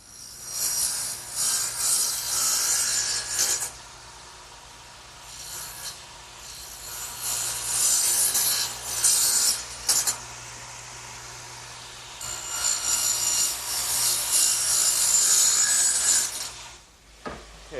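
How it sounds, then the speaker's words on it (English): A radial arm saw swung about 4 degrees past zero makes angled cuts through wood for a workbench assembly, three long loud whining passes with quieter idle gaps between them and no talk. "I'm going to have to swing my radial arm 4 degrees on the other side of 0 to make these cuts"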